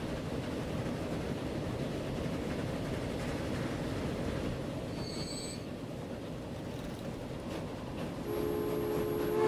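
A train runs in the video game Transport Fever, a continuous rumbling roll with brief squeals and a faint high tone, steady throughout without speech.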